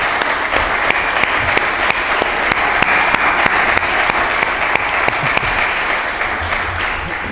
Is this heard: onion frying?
no